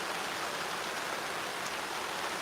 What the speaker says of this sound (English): It's raining bad now.